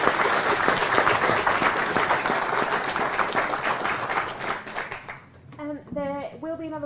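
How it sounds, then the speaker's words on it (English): Dense, loud audience applause fills a lecture hall after a postgraduate funding talk, sustained for about five seconds before fading, followed by a person speaking. "let's give a really big round of applause"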